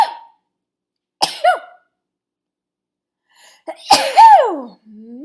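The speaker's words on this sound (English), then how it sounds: "I'm about to sneeze." A person sneezes loudly up close, with a short breathy build-up before the burst, then a trailing vocal sound; quiet gaps between.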